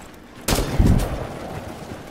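A gunshot from Rainbow Six Siege gameplay lands as a sudden loud blast followed by a booming low rumble that slowly decays, with no talk over it.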